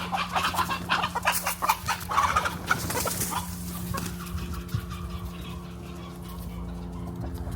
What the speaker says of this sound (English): And my chickens, oh no.